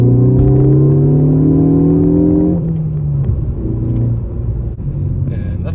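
A Ford Focus ST with a Borla S-Type exhaust accelerates, its engine note rising steadily in a loud, close drone before easing off into a lower rumble.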